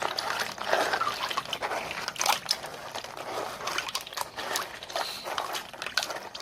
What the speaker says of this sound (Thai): ล้างน้ำเปล่าก่อนนะครับ